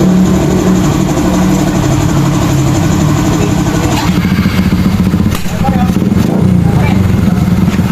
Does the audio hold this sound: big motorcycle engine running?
yes